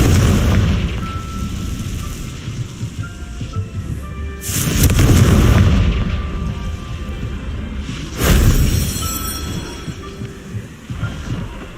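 Two heavy blasts from a Confringo fire spell in Hogwarts Legacy burst out several seconds apart over a continuous rumbling game soundscape, each swelling loud and broad before settling back.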